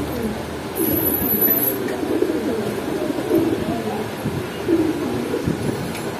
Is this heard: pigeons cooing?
yes